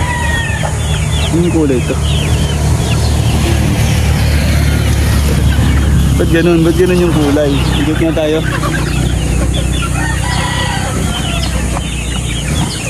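Lazy Gilmore breeder chickens calling and crowing in a hot farmyard, several rising calls standing out over a steady low hum while someone talks nearby throughout.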